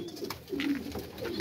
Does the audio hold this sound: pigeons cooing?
yes